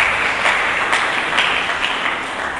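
Church congregation clapping together in a steady, broad wash of applause that fills the space evenly, with no speech on top and no clear break or fade.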